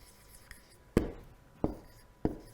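Chalk or marker tapping and scraping on a classroom board during a French grammar lesson, with a few sharp, separate strokes, fairly close and alone with no talk.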